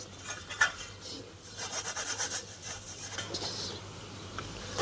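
A flour and jaggery mixture for sukhdi is stirred in a pan, giving a soft, steady scraping and rubbing that comes in repeated strokes at moderate volume, with no talking.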